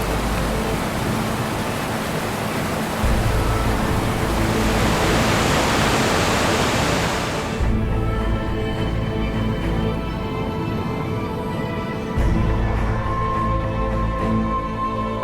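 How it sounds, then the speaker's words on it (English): A powerful multi-tiered waterfall in Iceland, once called the Unfordable Falls, plunges through a canyon, producing a continuous loud broadband roar of rushing water that shifts slightly in tone partway through. "a powerful cascade, once known as the Unfordable Falls, plunging through the canyon in multiple tiers"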